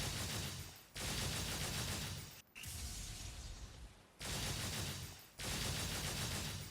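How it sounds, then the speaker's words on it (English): Trish's electric Charge Shot gun attack in a fighting video game comes as loud, dense bursts of crackling fire in three long blocks, each split by brief silent gaps. "By holding down the gun button until her hands are charged with electricity, you can use Charge Shot"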